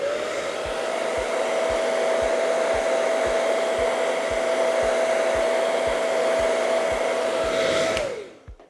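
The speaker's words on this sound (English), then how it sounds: "I will take my dryer and use that again, just blowing over that area." A handheld hair dryer blowing over freshly applied hair extensions on short relaxed hair gives a loud, steady, close whoosh with a faint regular ticking for about eight seconds, then clicks off and winds down.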